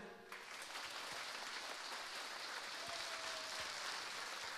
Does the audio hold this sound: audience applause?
yes